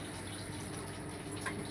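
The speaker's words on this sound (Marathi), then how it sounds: "आता आपल्याला कोबीमध्ये पाणी टाकायचं आहे" Water pours steadily into a pot of cabbage on a gas stove during home cooking, a continuous faint rushing splash throughout.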